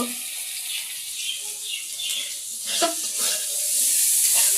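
Drumstick stalks hitting hot spiced oil in a home kitchen set off a steady, bright sizzle that holds throughout and swells louder toward the end, close and without talk.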